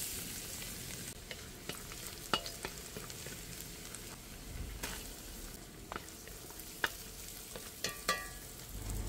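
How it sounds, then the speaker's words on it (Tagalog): Garlic sautés in a pan for beef tripe kare-kare, making a soft, steady sizzle broken by scattered sharp clicks and scrapes of a utensil against the pan. "Magigisa tayo ng bawang"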